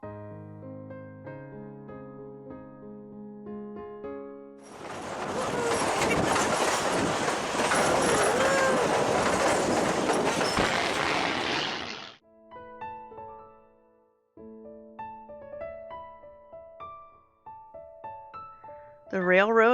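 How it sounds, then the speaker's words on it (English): Rumbling train noise from a coal-fired steam railroad in the Colorado backcountry: a loud, steady roar with wheel clatter that swells for several seconds between stretches of music. "The railroad operates coal-fired steam engines and diesel engines."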